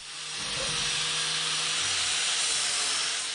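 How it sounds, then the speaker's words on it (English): Angle grinder with a flap disc smoothing off leftover weld on steel Jeep rock sliders, a loud continuous high-pitched grinding hiss that holds steady throughout with a slight low rumble shift partway. "I'm going to spend a little time here with the flat disc and get all those smoothed out and removed."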